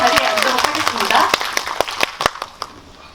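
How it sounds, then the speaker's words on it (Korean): Audience applause at a Netflix fan event in a cinema: a dense burst of clapping that thins into scattered individual claps and fades out over a few seconds. "큰 박수 한번 부탁드리고"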